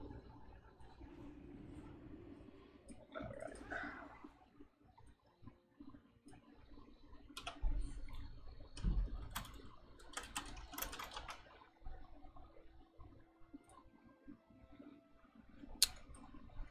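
Faint, sparse clicks and taps on a computer keyboard come in irregular bursts against a quiet background, with a few sharper keystrokes standing out.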